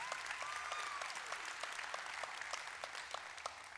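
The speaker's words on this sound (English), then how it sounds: "You can clap to that." Church congregation applauding after a charismatic sermon, steady dense clapping throughout, moderately distant with a faint tonal whistle early on.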